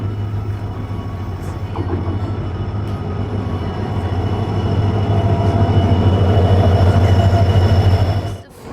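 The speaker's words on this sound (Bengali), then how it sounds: "গাইস 11:51-তে ট্রেন আসলো" A passenger train pulls into a railway platform at NJP station, a steady low rumble of wheels and carriages building gradually in loudness, with faint squeals and clatter, before tapering off at the end.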